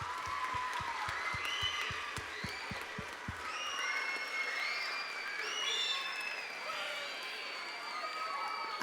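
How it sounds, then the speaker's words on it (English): Crowd applause at a school band spring concert, clapping with scattered cheers, whoops and children's shouts, moderately distant, along with some low thumping early on. "Please give them a big round of applause."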